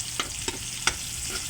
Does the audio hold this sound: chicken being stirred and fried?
yes